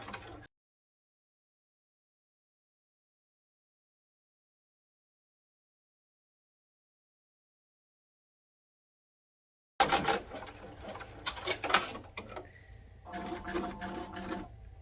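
A Ricoma EM1010 embroidery machine stitching a tree design, its needle running in a fast steady mechanical patter that starts abruptly after long silence and continues close up.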